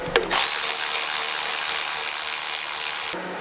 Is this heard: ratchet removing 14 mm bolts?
yes